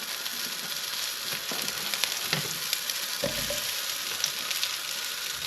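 Mushrooms fry with a steady, loud sizzle in a pan for coq au vin, with a few stirring scrapes and clacks over the continuous hiss.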